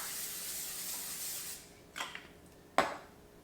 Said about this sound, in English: this is a full can of spray.